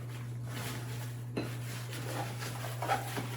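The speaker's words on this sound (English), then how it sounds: "And then my cooking utensils for cooking stuff." Camping cooking utensils and a pan are handled close by, with light metallic clinks and taps scattered over a quiet steady hum, one sharper knock in the middle.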